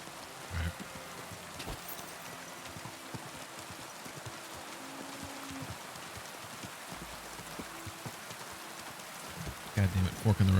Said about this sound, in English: It's kind of hard to hear over the rain though.